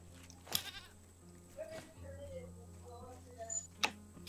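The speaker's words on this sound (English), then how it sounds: "Oh, I see the goats." Goats bleat in the Raft video game, a few brief, fairly faint calls spread through the clip among game ambience and small ticking sounds.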